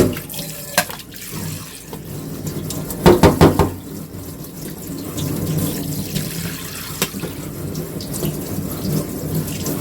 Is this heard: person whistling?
no